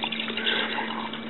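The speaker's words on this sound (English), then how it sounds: "what I'm going to do is I'm going to pour IPA" Isopropyl alcohol poured from a bottle into the sample cell of a Horiba LA910 particle size analyzer, a steady liquid splash and trickle that keeps going for a moment under a constant low machine hum.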